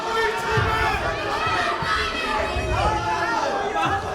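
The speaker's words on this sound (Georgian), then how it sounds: "როგორი ოვაციებია გვერდზე, როგორი გულშემატკივრობა მიდის" A packed arena crowd roars and cheers continuously during a TFC mixed martial arts bout, the broad crowd noise sitting under an excited commentator's voice.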